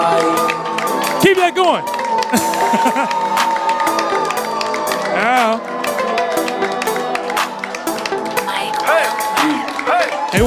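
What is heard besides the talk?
audience cheering and applause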